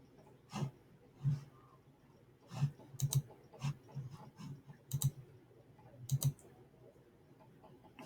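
Mouse clicks in a quiet room while navigating a Gmail inbox, sharp single and double clicks scattered irregularly across the stretch with soft handling noise between them.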